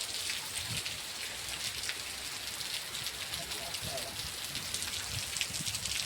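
Heavy rain pours steadily outdoors during a downpour, a dense continuous hiss of drops on surfaces with occasional faint background sounds, no clear talk.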